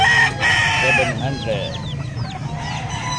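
Texas-breed chickens nearby, a rooster crowing over steady clucking from a flock of about twenty birds, with a person speaking briefly at the start.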